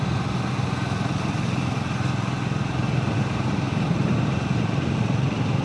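A Triumph motorcycle cruises steadily along the newly built Kalyani Expressway at golden hour, its engine drone and wind rush forming a constant, loud, unbroken roar with no talk.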